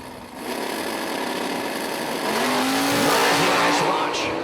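A drag race launch between a '67 Chevelle and a Fox body car at the Yellow Bullet Nationals, heard as a loud, sustained roar of engines that rises in intensity as the cars pull away.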